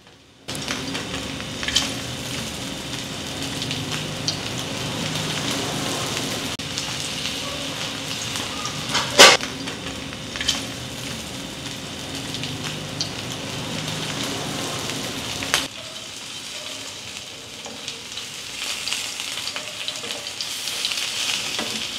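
Salmon fillet frying skin side down in a little oil in a home kitchen pan, a steady bright sizzle running throughout with one sharp click midway and a brief dip before the crackle resumes.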